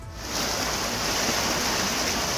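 Floodwater from a cloudburst in Chamoli, Uttarakhand, rushes loud and steady after heavy rain, washing away a road. The roar is a continuous broadband hiss with no pauses and no voices.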